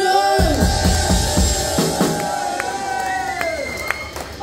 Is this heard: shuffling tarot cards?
no